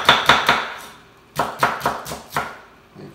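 A knife chops red onion on a board in quick bursts: three close strikes, a pause, then five more rhythmic, crisp chops heard up close with no talking.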